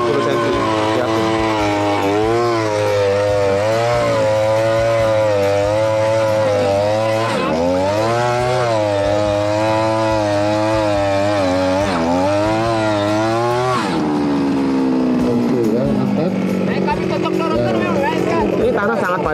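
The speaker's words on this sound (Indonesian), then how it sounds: "ini adalah mesin pengeboran tanah FPD 52S yang bisa mengebor sampai 90 cm" FPD 52S earth auger boring into hard, densely packed soil, a loud two-stroke engine roaring steadily with pitch shifts as it bites, dropping to a lower drone near the end, with talk over it.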